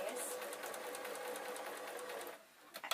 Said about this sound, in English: freehand on a normal sewing machine